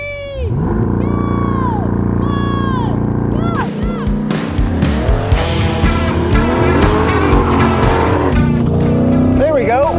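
A Chevy Corvette Stingray and a Toyota GR Supra launch in a drag race: revving engines with rising whines hold, then both cars surge off loudly with tire chirps and roaring acceleration, as people talk excitedly nearby.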